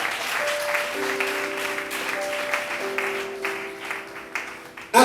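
A church congregation at a Sunday service applauds and cheers for Jesus. Steady clapping fills the room while sustained keyboard notes play underneath, and a louder burst comes at the very end.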